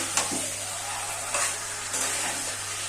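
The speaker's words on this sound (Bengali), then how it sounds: "আমি এখন ভেজে রাখা আলুগুলো দিয়ে দিচ্ছি সব দিয়ে একবারে কষিয়ে নেব" Chicken and pre-fried potatoes stir-fry together in a hot pan for a Bengali chicken kosha, a continuous loud sizzle broken by a few scraping stirs of a spatula.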